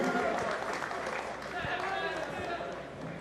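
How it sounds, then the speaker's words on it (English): A crowd at a boxing press conference in London gives a round of applause, a dense but fairly quiet patter of clapping with faint talk underneath. "Round of applause for both."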